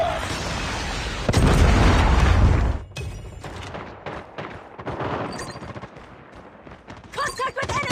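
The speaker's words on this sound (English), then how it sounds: "Predator missile inbound." A Predator missile strike in a shooter game lands as a heavy, loud roaring blast lasting over a second. Scattered gunfire and rumbling debris follow it, with faint game voice lines underneath.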